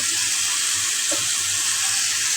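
Runs of water pour from a tap while food is rinsed at a kitchen sink, a steady broadband splash with faint handling clatter underneath and no voices.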